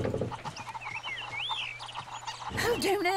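Farm fowl on the farmlands of the video game Ember call out in repeated warbling, gobbling bursts, fairly close and continuous, with a louder cluster of calls near the end.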